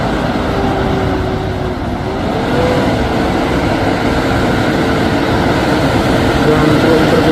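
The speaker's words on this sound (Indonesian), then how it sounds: "Dua unit truk tangki Fuso Victor" Two Fuso Victor tanker trucks drive by, a loud, continuous rumbling engine and road noise with a faint rising whine, steady throughout and close.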